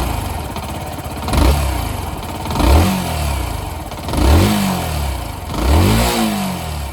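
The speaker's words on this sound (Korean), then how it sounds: "단기통인 만큼 배기음은 조금 아쉬운데요." A Zontes 125cc single-cylinder scooter with a short all-black stock muffler revs up four times in steady succession, each rise in exhaust note dropping back toward a thumping idle, close and loud.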